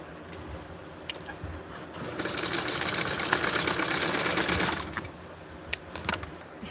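Sewing machine stitching elastic runs in a short continuous burst of rapid whirring, close and moderately loud, with quieter clicks and handling noises before and after.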